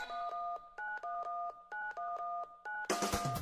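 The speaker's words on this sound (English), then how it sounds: "Grab that phone and dial 911." A rapid sequence of telephone keypad tones dialing 911, each beep short and evenly spaced, ending in a burst of loud noise.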